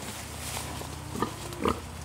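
A mud-covered pig on a pasture homestead chewing applewood sticks gives two short, close grunts late in the moment over a low steady background hum.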